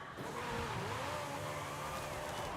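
A 2023 Porsche 911 GT3 RS with a drag tune making about 1400 horsepower, driven in the racing game Forza Horizon 5, sends out a loud, continuous engine roar whose pitch rises and falls as it revs, with no talking.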